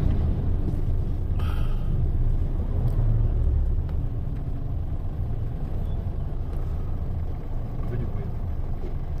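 Afternoon road traffic of passing cars and trucks forms a continuous low, heavy rumble with engine drone that swells and fades slightly, steady throughout and fairly loud.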